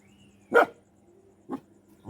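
Three sharp dog barks at night in a village, spaced out with quiet pauses between them, fairly close and loud against a faint low background hum.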